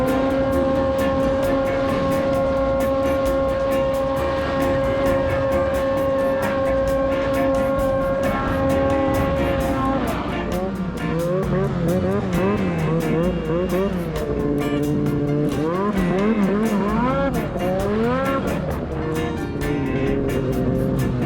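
A snowmobile engine drones loudly and steadily as the sled rides over a mountain in summer, with the pitch rising and falling through repeated revs and throttle changes as the ride continues.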